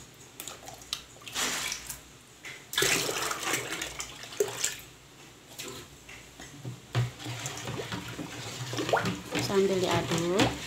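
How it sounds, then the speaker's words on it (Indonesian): Two liters of cold water are poured into a cooked pop ice durian mix, giving a sustained, fairly loud gush and splash that varies in strength, with a voice talking over it. "Setelah matang sempurna, jangan lupa tambahkan air dingin sebanyak 2 liter."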